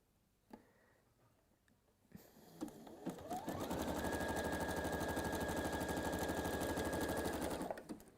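A sewing machine stitches fabric at a 1.8 width and 1 length setting, starting after a few soft clicks and handling sounds, then running as a steady, fast, close mechanical whirr for about four seconds before stopping.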